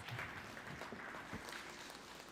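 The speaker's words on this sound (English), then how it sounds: "Can we give him another round of applause?" Steady applause from a crowd at the opening of a development centre, a continuous dense patter of clapping at moderate level throughout, with no one speaking over it.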